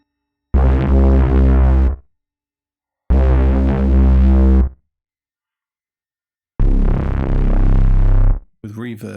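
Three sustained synthesizer notes, each held for over a second with silent gaps between, rich and buzzy, followed by a brief burst at the end.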